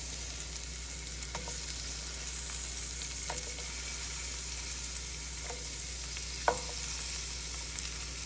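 Onions frying in a pan with cardamom, cinnamon and cloves for a home-style kichidi, a steady broad sizzle running throughout with a few soft stirring clinks.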